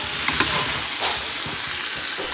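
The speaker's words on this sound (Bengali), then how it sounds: "এমনি এই রকম কাঁচা পনির এভাবে দিয়ে দিলাম এর মধ্যে। এবার এটাও এরকমভাবে কষিয়ে নেব।" Raw paneer pieces sautéing in a hot pan for a home-cooked paneer and potato dish give a steady close sizzle, broken by a few light clinks of stirring.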